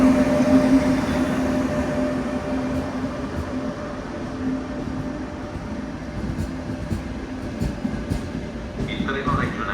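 Train noise at Venezia Mestre station, a steady rumble and hiss of rolling stock with faint clicks and squeals, people talking in the background.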